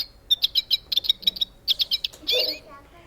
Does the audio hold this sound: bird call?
yes